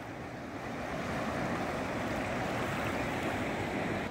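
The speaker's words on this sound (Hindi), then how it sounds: "ये देखो नीचे हल्का सा समुद्र की जैसा पानी लहरें हल्के हल्के आ रही है।" Gentle waves of cold water near Manali wash in as a soft, continuous rushing swell, rising slightly after the first second and holding steady, with some wind buffeting the microphone and no speech.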